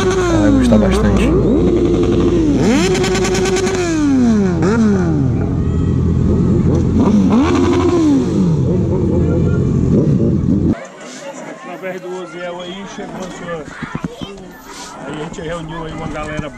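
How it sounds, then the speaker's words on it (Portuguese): A four-cylinder motorcycle engine roars loudly with rising and falling revs, then cuts to quieter background noise and crowd chatter at a charity motorcycle group ride. "quem é que não gosta de uma moto 4 cilindros? De ouvir o ronco dela"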